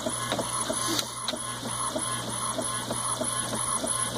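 An HP ENVY 4501 all-in-one inkjet printer printing, with a steady mechanical whir and repeated rhythmic clicks and carriage strokes, close and continuous with no talking.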